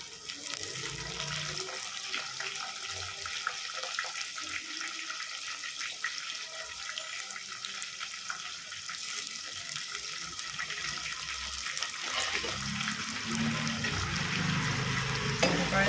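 Curry leaves splutter in hot oil for a sardine curry with Munnar kudampuli, a dense continuous crackling sizzle that swells louder toward the end.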